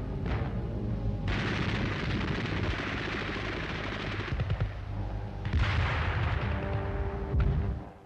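Explosion from a direct hit on a Japanese oil dump on Iwo Jima in 1945, amid battlefield noise: sustained loud, rumbling blasts with bursts of gunfire-like crackle, swelling again near the end.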